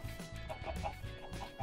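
Minecraft chickens clucking in a series of short, moderately loud calls over a steady game background, with no talk.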